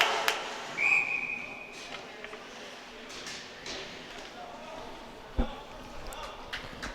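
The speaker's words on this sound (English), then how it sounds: "Looks like Uvino actually dropped the puck before the whistle" A referee's whistle at a TCNJ vs. Scranton college ice hockey game gives one short, shrill blast early on, over steady arena noise, with a commentator talking.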